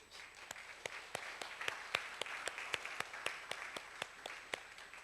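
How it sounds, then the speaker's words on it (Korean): Church congregation applauding during a service, heard as sparse, fairly faint claps in a steady, roughly even rhythm, about three per second, over a quiet room background. "잠깐 일어나시면 우리 박수 많이 하시겠습니다."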